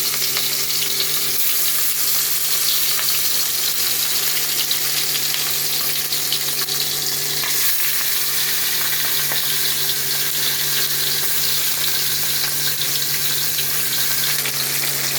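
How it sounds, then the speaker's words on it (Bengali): Loud, continuous sizzling and spitting of fish frying in hot oil, steady throughout with occasional crackles and no speech. "আমি মাছগুলো ভেজে নেব ভালো করে।"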